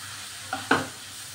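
Pasta ingredients with turmeric fry in a pan under a faint steady hiss, broken by two quick scraping stirs close together, close and quiet with no talk.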